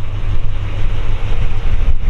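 Steady, loud wind buffeting the microphone, a deep continuous rumble with a hissy edge and no pauses, with no voices.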